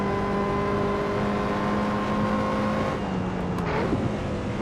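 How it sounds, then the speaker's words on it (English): Steady high supercharger whine from a race car engine in Assetto Corsa, holding a constant pitch under the engine drone, then dropping and shifting as the revs fall near the end. "I hear that whine behind us."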